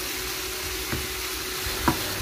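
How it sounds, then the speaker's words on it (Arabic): Black pepper and ginger fry in oil in a pan after salt has been added, giving a steady, dense sizzle throughout, with a couple of soft stirring knocks. "وراح نخليهم يتقلاو."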